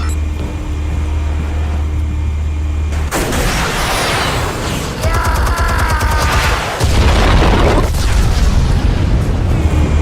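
Explosives detonating in a Batman action game: a low rumble gives way to a loud blast and a dense, roaring spray of debris and crackling fire, then a second heavy boom that keeps rumbling, close and very loud.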